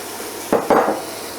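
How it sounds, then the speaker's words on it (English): Onions dropped into a preheated frying pan for vegan Lithuanian potato dumplings, giving two short bursts of sizzling and clattering at close range, then a steady frying hiss. "my frying pan is heated up, so I'm gonna add the onions first"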